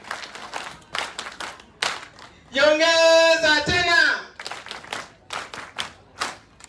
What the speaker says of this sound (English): We are going to command the clap.